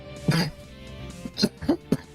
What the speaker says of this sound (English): Oh, the cough is returning.